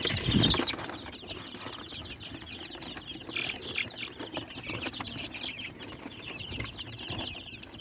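Free-range chickens sit in a coop box and make soft clucks and chirps, with a brief flutter near the start, all faint and at a low level.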